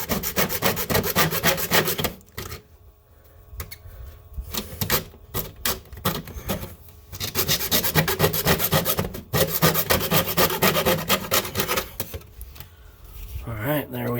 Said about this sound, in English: We're just gonna cut a little bit farther out and file it down.